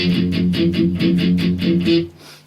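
Electric guitar riff, the ring finger lifting off and pressing back on in a steady repeating pattern, played alone with no talking, about eight even strums over two seconds.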